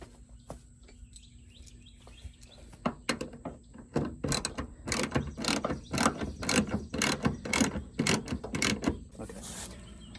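Ratchet clicking while a bolt is tightened during door repair on a 2004 Honda Odyssey: close, rapid bursts of sharp ratcheting clicks after a quieter start, building into repeated fast strokes.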